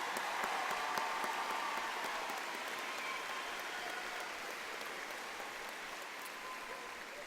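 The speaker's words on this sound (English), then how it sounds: "Please give these students a round of applause." Graduation ceremony crowd at Mountain View High School applauding the students, a steady, fairly faint wash of many hands clapping that holds for several seconds and eases slightly toward the end.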